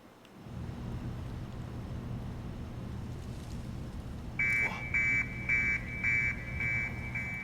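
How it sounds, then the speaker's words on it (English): An alarm in the stealth video game Hitman beeps in five evenly spaced bursts over a steady low rumble of game ambience, starting partway through and sounding moderately loud. "Go and investigate the alarm."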